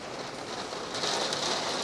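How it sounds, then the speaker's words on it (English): Heavy rain pours down outside, a steady dense hiss that swells slightly louder partway through, with no voices. "It is pouring rain outside."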